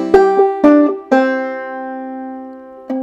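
Clawhammer banjo playing a measure of the tune Colored Aristocracy with a skip stroke and drop thumb: a few bright plucked and brushed notes ringing out clearly and close, with a long sustained decay and no talk.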